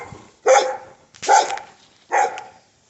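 A dog barking outdoors beside a newly installed Zoysia grass lawn, three loud, close, evenly spaced barks with short pauses between them.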